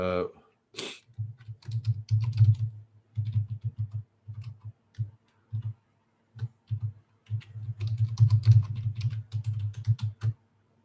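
Fingers tap out a password on a computer keyboard in bursts of close, quick clicking with short pauses, and a brief voice sound near the start.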